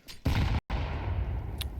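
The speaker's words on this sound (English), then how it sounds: "A lot of gunfire through that smoke" Gunfire in a Counter-Strike match fired through smoke: a dense, loud burst of shots that cuts out abruptly, then resumes as sustained rattling fire with a sharp crack near the end.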